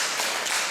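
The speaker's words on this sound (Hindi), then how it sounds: "इस तरीके से तालियां बजा देंगे" Hands clap together during a yoga breathing exercise at a Panchkoshi Sadhana session in Los Angeles: a brief, dense burst of sharp claps with no pause.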